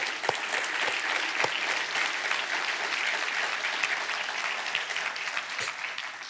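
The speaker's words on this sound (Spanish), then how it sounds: "Le doy un aplauso al Señor" A church congregation applauds during a worship service in Spanish, a dense, steady wash of many hands clapping that holds evenly for the whole stretch with no talk.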